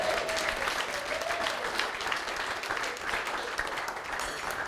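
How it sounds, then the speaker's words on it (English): Wedding guests break into a round of applause, steady and fairly soft, with a faint voice briefly audible beneath the clapping throughout. "To my family, that deserves a round of applause."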